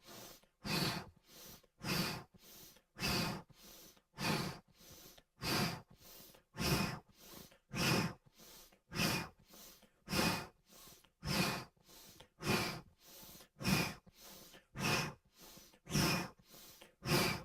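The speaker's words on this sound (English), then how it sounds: "Twist to the right, inhale, and twist to the left, O shape out the mouth. Exhale." Steady kriya yoga breathing, each long exhale pushed out through an O-shaped mouth, repeating about every second in an even rhythm for the whole stretch, close and soft, with no speech.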